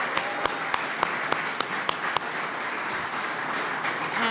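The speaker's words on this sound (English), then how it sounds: "Another big round of applause to Erin." Audience applause at a university press conference, a steady wash of clapping held at moderate level with several sharp louder claps standing out near the start.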